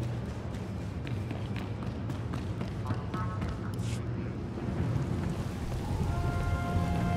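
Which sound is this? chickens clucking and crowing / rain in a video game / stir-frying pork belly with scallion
rain in a video game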